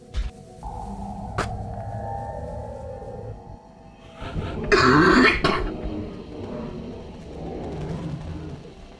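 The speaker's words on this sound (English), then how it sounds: "I'm feeling some coughing coming on." A person with the flu clears their throat and coughs, starting with a few small throat sounds and breaking into a loud, harsh burst of coughing in the middle before it fades back down.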